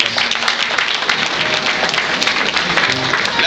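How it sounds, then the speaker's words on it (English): Loud, dense audience applause fills a hall at a brass band night of legends event, continuous many-handed clapping with crowd noise and faint voices mixed in. "Come on, let's give him a round of applause."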